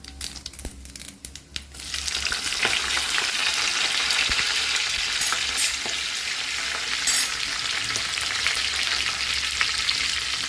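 Curry leaves hit hot oil already tempered with cumin and asafoetida and burst into a loud, crackling sizzle after a few quiet seconds, then keep frying steadily with light spattering close by.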